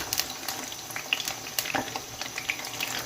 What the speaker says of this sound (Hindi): फिर इसके अंदर जो हमारे करेले हैं हम वो फ्राई करेंगे।